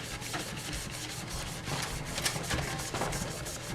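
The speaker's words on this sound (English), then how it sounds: "I'm just going to keep rubbing off this paint." Steady, close scrubbing as paint is rubbed off an epoxy-coated tumbler using acetone, a continuous rough swishing rasp with rhythmic strokes and no talking.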